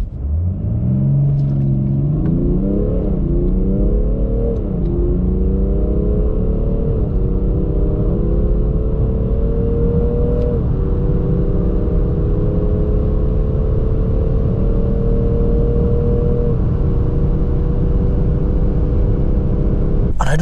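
A BMW 435d Gran Coupe xDrive diesel accelerates hard, heard from inside as a loud, continuous engine drone climbing through several gear changes with brief dips between shifts, no talk over it.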